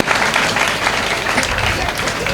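Loud, continuous applause from a large crowd at a special Kumbhabhishekam debate event: dense, even clapping throughout, close and filling.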